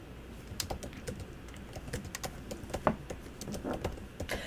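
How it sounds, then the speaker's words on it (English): Fingers type quickly on a computer keyboard close by, an irregular stream of light clicks and clacks with occasional heavier keystrokes, with no talking. "I'm going to type it in right now"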